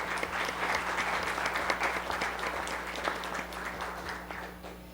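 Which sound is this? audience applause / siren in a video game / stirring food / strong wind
audience applause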